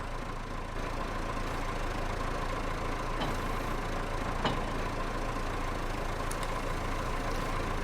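A tractor engine idling on a farm in Farming Simulator 22, a steady low rumbling drone held at an even level from start to end, with a couple of faint clicks and no talking.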